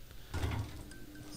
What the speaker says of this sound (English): I swear to god, I just heard the door open